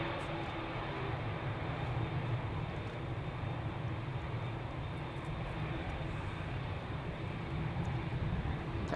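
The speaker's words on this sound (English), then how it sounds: "Taxiing onto the runway over here." A KLM Boeing 787 Dreamliner jet taxis onto the runway at Amsterdam Schiphol Airport, producing a steady, continuous engine roar and whine heard from nearby and holding at an even level throughout.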